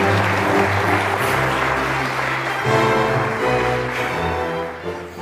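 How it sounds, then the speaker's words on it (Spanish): Loud applause rises for a newly married couple right after the vows at a wedding ceremony in a telenovela scene, steady and continuous across the whole moment, with musical tones sustained underneath. "Demos un fuerte aplauso a Xochitl y a Fernando"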